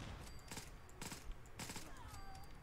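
A modded Colt Woodsman pistol firing in Fallout 4, with about four sharp bursts of shots spaced across a couple of seconds over a steady hum.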